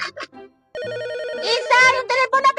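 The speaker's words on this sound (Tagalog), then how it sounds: "yung telepono pakisagot" A telephone rings with a repeating electronic trilling bell, loud and steady for about two seconds, as a voice and other talk sound over and around it.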